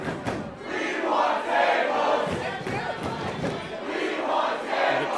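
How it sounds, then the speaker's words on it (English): A wrestling arena crowd chants for tables during a ladder match, a loud rhythmic mass of voices that rises and falls in waves throughout. "The crowd's desire for tables being known."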